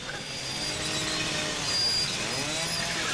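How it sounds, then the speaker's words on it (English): In the video game The Evil Within, a chainsaw roars steadily and loudly for a few seconds as it cuts through a chain, a constant, gritty buzz with no pauses. "we're going to use the chainsaw"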